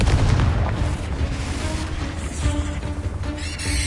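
Explosive Confringo spell blasts in Hogwarts Legacy, deep booming bursts with rumbling impact over ongoing combat noise, close and loud.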